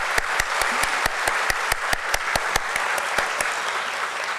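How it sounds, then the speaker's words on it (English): A crowd claps at the DOMS Industries listing ceremony at the BSE stock exchange, with loud, sharp individual hand claps standing out over a steady wash of applause that keeps going for several seconds. "Let's have a huge round of applause for him,"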